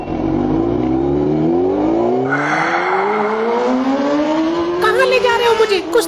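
A Honda motorbike engine starts and revs, its loud, rising whine climbing steadily in pitch as it pulls away close by.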